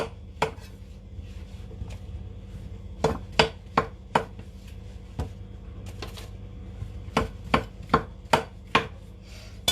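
A knife chops vegetables on a chopping board in a kitchen, sounding as sharp, close knocks that come in irregular bursts, some spaced apart and some in quick runs, with no talking.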